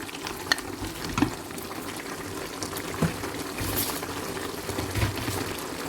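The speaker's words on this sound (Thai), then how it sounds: "เราก็คนให้ใบกะเพราเนี่ย มันเข้ากับแกงค่ะ" Thai red prawn curry with coconut milk and holy basil leaves being stirred in a pot off the heat, giving soft scraping and sloshing strokes with a few sharper knocks against the pot, steady and close.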